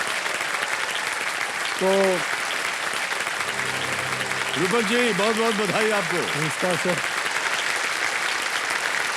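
Studio audience applauding on the KBC game show set, a continuous wash of clapping that carries under a voice greeting a contestant and a brief spoken reply.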